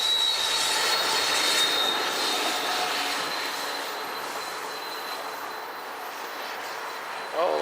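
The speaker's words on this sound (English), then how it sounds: "one of the new Charger locomotives on the back end," An Amtrak train with a Heritage cab car leading and a new Charger locomotive pushing on the rear rolls past near Puget Sound, a loud sustained rumble with metallic wheel squeal that fades slightly toward the end.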